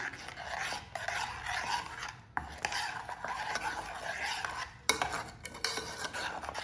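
A spoon scrapes and clinks against a bowl while tamarind chutney is mixed with cumin, salt and spices, in uneven bursts of stirring with brief pauses.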